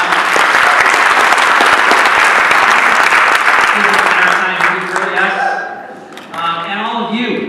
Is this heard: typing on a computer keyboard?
no